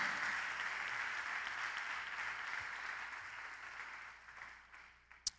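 A church congregation claps in praise during a service, sustained dense applause that slowly fades out, ending with one sharp knock.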